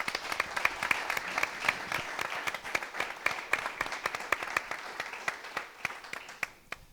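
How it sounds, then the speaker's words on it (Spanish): Audience applause at a centenary event of the Spanish hockey federation in Valencia: scattered, distinct claps in an irregular rhythm, moderately quiet and steady throughout. "Un aplauso, por favor."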